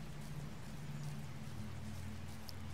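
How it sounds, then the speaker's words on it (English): Steady rain falls in the survival video game Deadly Flare, a continuous soft hiss over a low droning hum, with no talk. "See, the problem is it's raining"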